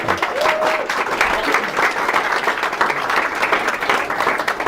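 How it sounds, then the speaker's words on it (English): A crowd applauds steadily throughout, dense clapping filling the space without a break. "Big round of applause."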